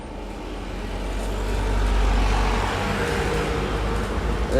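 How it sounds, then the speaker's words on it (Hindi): Heavy road traffic rumbles past, a loud low drone swelling and fading steadily as trucks and other vehicles go by close to the listener, with no speech. "तो ये गाड़ियाँ गुजरती है तो बहुत शोर आ जाता है।"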